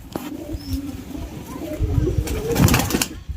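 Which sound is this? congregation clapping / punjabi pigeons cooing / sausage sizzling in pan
punjabi pigeons cooing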